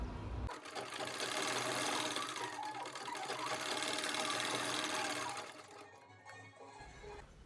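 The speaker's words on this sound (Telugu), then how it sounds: "మెయిన్ ఫ్యాబ్రిక్ సీదా నుంచి లైనింగ్ వేసి స్క్వేర్ షేప్ స్టిచ్ చేస్తున్నాను" Sewing machine stitching a square of main fabric with lining attached, a loud, steady rapid whir of needle strokes running continuously for about five seconds before stopping, followed by faint handling clicks.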